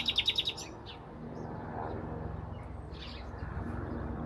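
Birds chirp outdoors in a fruit-tree garden, a quick burst of sharp tweets at the start and a few fainter calls later over low background ambience.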